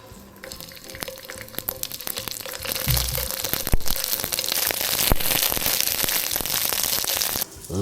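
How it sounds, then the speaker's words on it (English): Rice flour cakes drop into hot oil in a pan. A quiet background gives way to a loud, crackling sizzle that swells and holds steady, then cuts off briefly near the end. "Once the oil is hot enough, it is time to drop some cake into it."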